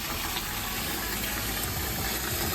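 Water pours steadily over sauerkraut rolls, making a constant, close gushing wash with no pauses and no voices.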